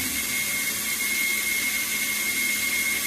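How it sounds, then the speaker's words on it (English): A cleaned Radicon base motor starts up and drives its advancing switch, giving a steady, continuous whir with a faint high whine held at an even level throughout, with no voices. "I'm going to simulate a control from the meter relay, which is going to start this motor"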